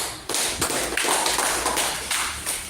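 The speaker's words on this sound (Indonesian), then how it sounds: "berikan aplaus" Classroom audience applauding after a group presentation, a dense burst of many hands clapping that starts abruptly, swells and holds steady, then tapers slightly near the end.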